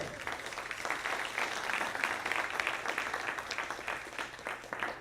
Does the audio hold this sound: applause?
yes